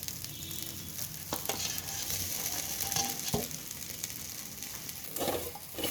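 Ground masala being stirred into sautéed fenugreek greens in a pan, giving a steady soft sizzle with scraping spoon strokes and a few sharper knocks against the pan, with no talking.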